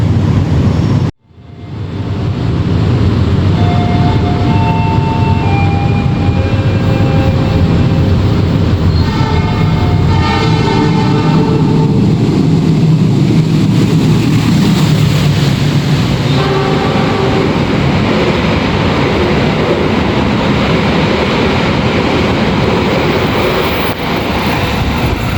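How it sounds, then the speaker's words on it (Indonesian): The Sembrani passenger train, running from Jakarta Gambir to Surabaya Pasar Turi, passes straight through Karawang station on track 2. It sends a loud, sustained rumble and wheel clatter past the platform, with horn blasts sounding several times. "Yang melintas langsung di stasiun Karawang jalur 2 itu adalah kereta api Sembrani dari Jakarta Gambir"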